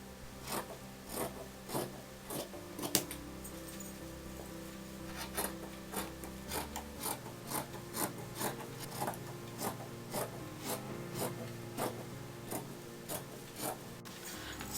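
Scissors cut through kurta fabric in a steady series of crisp, rhythmic snips, each one close and clear over a faint background hum.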